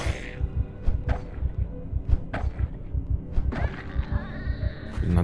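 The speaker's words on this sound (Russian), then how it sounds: "из-за сердцебиений нифига не слышно" A character's heartbeat in the video game Project Zomboid, pounding in a steady, rapid rhythm of deep thumps that sit close and loud throughout.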